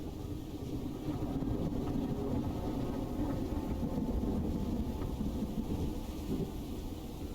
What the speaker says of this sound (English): I heard ye ol' spider train.